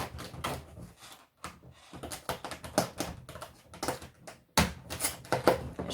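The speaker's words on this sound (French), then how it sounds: "Je suis obligée de le casser un peu, vraiment beaucoup, pour sortir tous les produits." A cardboard advent calendar box is forced open up close in irregular bursts of crackling, creaking and tearing, separated by short quiet gaps, with no voices.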